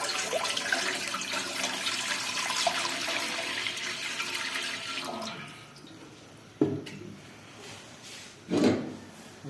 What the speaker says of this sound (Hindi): इसमें हमने एक जग पानी का डाल देना है।